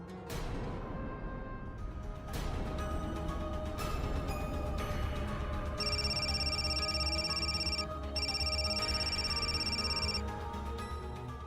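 A telephone ringing indoors, an electronic ringtone sounding in two long bursts with a short gap between, heard over background music.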